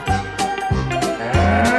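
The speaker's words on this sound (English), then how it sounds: "Sorry, Gordon, the cows nearly crossed the track." Cows moo in a short run of loud, close, deep bellowing calls, several overlapping moos following one after another with no speech over them.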